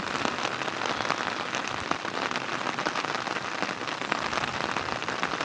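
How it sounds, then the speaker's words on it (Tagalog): Heavy rain pouring down at a farm plot, a loud, dense, unbroken patter that fills the whole stretch with no speech. "Lakas na ng ulan, ayaw pang umahon."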